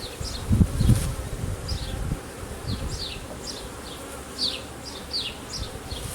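Honeybees swarm around an open hive during a colony inspection, a steady close buzzing drone with individual bees whizzing past the microphone, and occasional handling thumps early on.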